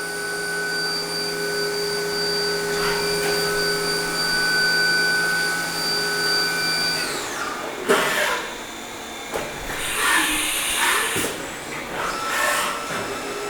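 A 2012 HAAS Super Mini Mill 2 CNC vertical mill runs a cycle, its spindle whining steadily before winding down, followed by clunks, hisses and whirring bursts from quick tool changes, loud and close.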